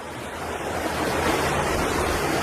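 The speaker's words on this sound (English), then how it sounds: "I have to speak really loud because it is very loud because of the water." Loud rushing water and crashing waves roar steadily and close at a freezing cold, remote camping spot, a dense continuous wash of noise with no pauses.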